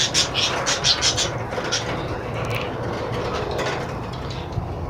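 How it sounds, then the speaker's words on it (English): Pet bird chattering and scratching close by, with rapid bursts of clicking, ratcheting calls at the start, then fainter rustling and occasional chirps over a low background hum. "This is my pet bird."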